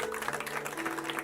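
A church congregation applauds during an Easter service, sounding as a continuous wash of clapping, faint and somewhat distant, with a steady hum beneath it.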